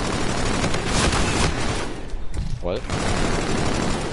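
Rapid game gunfire crackles steadily through a shooting video game match, dense and loud across the whole stretch, with a player's brief spoken exclamation cutting in midway.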